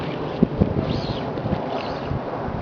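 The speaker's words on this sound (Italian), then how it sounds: "La giornata fortunatamente è ventosa e ci permetterà di vederla navigare." Steady wind rushes and buffets past the microphone outdoors where a radio-controlled USA-98 model sailboat sails on a breezy day, with a couple of soft bumps and no talking.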